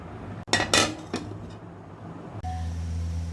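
A dish clinks and clatters against a bowl of semolina, sugar and egg batter in a few quick knocks, then a steady low kitchen hum carries on.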